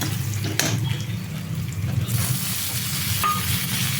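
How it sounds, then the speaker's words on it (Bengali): Chopped tomato sizzles and is stirred in a pan with fried onion, ginger and black cumin for a Bengali potato-cauliflower curry, a steady close frying hiss with scraping stirs throughout and no talk. "টমেটো কুচি দিয়ে একটু নাড়াচড়া করার পরে"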